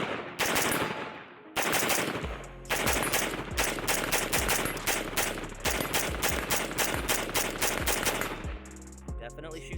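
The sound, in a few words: AR-15 rifle firing steel case ammunition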